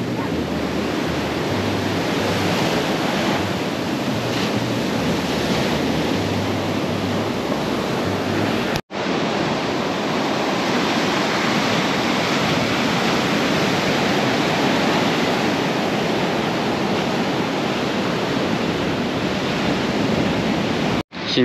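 Waves break continuously on a Colombian beach at Palomino, where the sea has eroded the sand. The surf is loud and close, a steady broad roar with a brief dropout near the middle and no voices.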